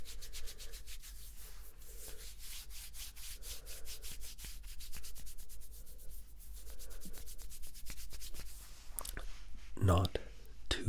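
Oiled skin is rubbed by hand in a close, soft ASMR setting, a steady swishing friction with a rhythmic pulse that carries on throughout, ending in a brief louder rustle.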